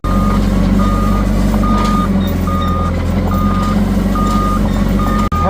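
Combine harvester backing up with its reversing alarm beeping in a steady loud repeating pattern over a heavy, constant engine drone, close to the microphone.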